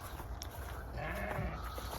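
A sheep bleats once amid farm ambience, fairly faint and short, with a soft voice murmuring in the background.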